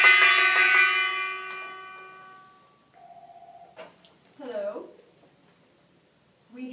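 A gong is struck once at the start of a radio quiz call-in, its loud metallic tone ringing out and slowly decaying over a few seconds before a host begins talking.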